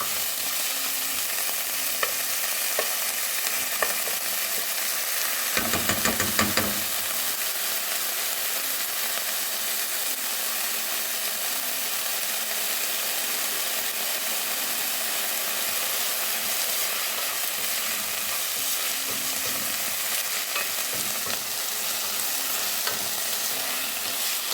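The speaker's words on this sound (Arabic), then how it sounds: "اول مره احمس البصل والشبنت، بعدين احط اللحم واحمسه وياهم" Onion and dill, then meat, sautéing in a pan, giving a steady close sizzle and hiss of frying that runs throughout, with occasional louder bursts of stirring and spattering and no talking.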